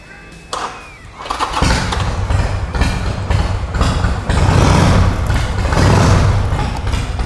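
A custom Japanese-style Harley-Davidson chopper cranks briefly and fires up, then settles into a loud, close, rumbling idle with blips of throttle for several seconds.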